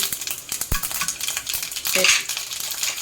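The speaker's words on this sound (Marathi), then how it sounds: "त्याच्यामध्ये आपल्याला जिरे आणि मोहरी टाकायची आहे चांगली तड तोडून द्यायची" Cumin and mustard seeds crackle and sizzle in hot oil in a pan for a mirchi vada filling, with rapid pops and sharp clicks close by, alone without talk.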